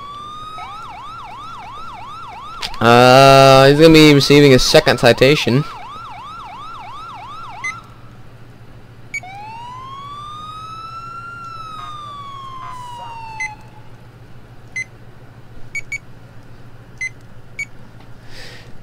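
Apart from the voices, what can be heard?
police car siren in video game LCPDFR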